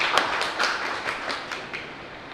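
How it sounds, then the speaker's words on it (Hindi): A small audience at a national council meeting in Kanpur claps to welcome a speaker, sparse and uneven, with individual hand claps distinct rather than a dense roar. "ताली बजाकर स्वागत करें।"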